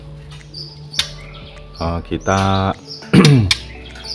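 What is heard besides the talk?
bird calling, trotol bird from Kebumen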